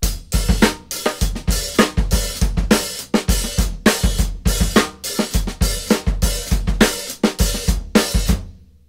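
A drum kit plays a driving 7/8 groove with an open hi-hat, punchy kick and snare hits in an uneven repeating cycle, loud and close, cymbals washing over each beat until a clean stop.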